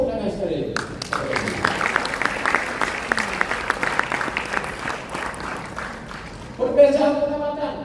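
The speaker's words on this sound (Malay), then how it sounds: "Tepuk tangan sekali." Seminar audience clapping on cue, a moderately dense patter of hands under and around a speaker's voice, fading somewhat before talk picks up again near the end.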